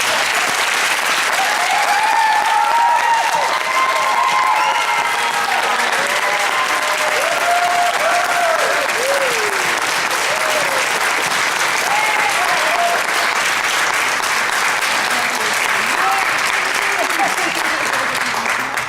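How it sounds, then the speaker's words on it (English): Sustained, loud applause from the audience at a nursing school pinning ceremony for graduates, with steady clapping filling the room throughout and some voices and cheering mixed in. "Let's give our graduates another round of applause."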